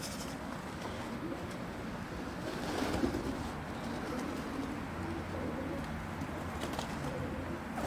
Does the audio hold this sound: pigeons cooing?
yes